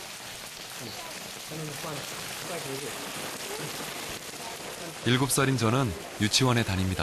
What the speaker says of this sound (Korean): 아침부터 장대비가 쏟아집니다